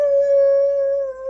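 A child imitates a wolf, holding one steady, clear howl-like tone close up and loud for about a second and a half with no other sound around it.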